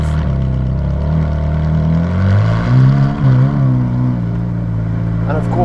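Ferrari 458 Speciale fitted with a Novitec exhaust driving on an open road, a loud, close, throaty engine roar that holds steady, then dips and rises as the driver shifts and revs.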